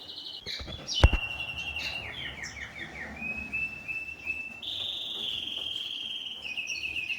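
Young canaries in a flight cage leading into an aviary bird room chirp and trill, with a thin sustained whistling song line running through most of the stretch and a sharp click near the start.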